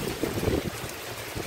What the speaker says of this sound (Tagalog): Ang mga puno ay talagang sumasayaw sa lakas ng hangin.